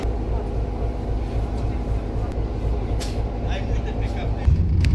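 A train on the Banat mountain railway in Romania pulls away after its locomotive is coupled, with a low rolling rumble, faint clanks and squeals, and a heavier surge near the end.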